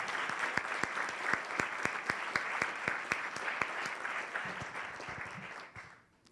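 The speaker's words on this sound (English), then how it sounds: "Please give our sponsors a big round of applause if you would." A crowd applauds steadily with dense clapping that holds for several seconds, then tapers off and fades out at the end.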